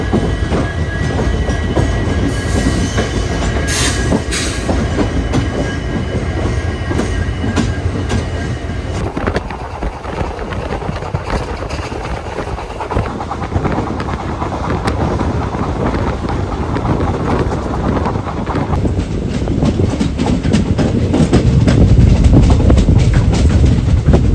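Pune-Ernakulam Express running on the tracks, a loud continuous rumble with rhythmic clickety-clack of wheels and strong wind buffeting, heard from on board with no talk.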